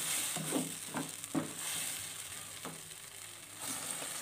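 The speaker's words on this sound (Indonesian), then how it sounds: "Dan tambahkan air kaldu bekas rebusan daging tadi." Meat broth hits a hot pan of chili and lime leaves for dendeng lambok, a Padang beef dish. It gives a soft, continuous sizzle broken by a few short bubbling bursts and stirring scrapes, close and fairly quiet.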